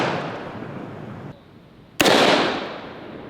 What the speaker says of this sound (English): Well, it fired and locked the bolt back, and our shell casing landed right here.